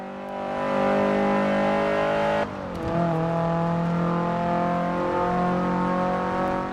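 A Forza Horizon 4 car engine revs high with a sustained, buzzy VTEC howl, holding steady, then cutting sharply on a gear shift before climbing again, loud and continuous without talk.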